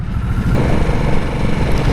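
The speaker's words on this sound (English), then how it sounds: "The sound of the engine is definitely more of a whirring sound than a deeper bass kind of sound." A 2024 Harley-Davidson Nightster Special RH975S runs under way, its engine giving a loud, steady whirring drone mixed with wind rush, constant and close for the whole stretch.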